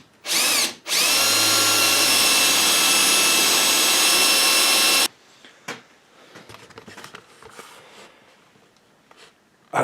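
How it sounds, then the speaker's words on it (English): A power drill boring into the end of a metal toy wand: a short burst, then a loud, steady whine for about four seconds, followed by quieter handling clatter. "if you're planning on drilling a hole in the end of your death wand"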